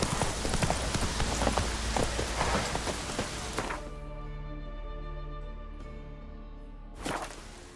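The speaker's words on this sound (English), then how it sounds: "Raining again." Steady rain patters across a Witcher 3: Wild Hunt game scene, a broad continuous wash with a horse's hoof clip-clops mixed in early, then thinning to a quieter hiss with a few brief accents.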